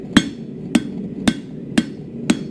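Hand hammer blows on metal stock over an anvil while forging a decorative leaf key chain pendant, five sharp ringing strikes at a steady, even pace, close and loud with nothing else heard.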